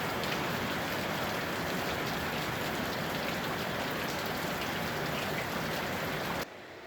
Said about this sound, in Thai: ตกมาอีกแล้วพี่น้องฝนตกดีครับ